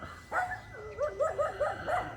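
Dogs on a street in the Philippines give a run of short, close yips and whimpering barks, about six or seven in a loose rhythm, fairly loud against a quiet background.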